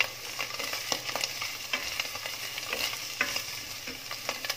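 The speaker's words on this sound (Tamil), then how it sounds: "பாருங்க நல்லா வதங்குது" Onion and garlic sauté in a pan for spaghetti aglio e olio: a constant close sizzle broken by frequent quick spatula taps and scrapes, with no voices.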